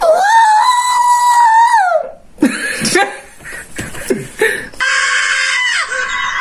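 A person imitates a marmot's cry with sustained, high-pitched squealing calls, broken by a burst of laughing and chatter before another long shrill call.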